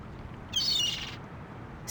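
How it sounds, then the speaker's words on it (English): Seagull in The Longest Journey, giving a short, loud, harsh squawk followed by the start of another cry near the end, with no speech over it. "It's a seagull. Poor guy looks quite hungry."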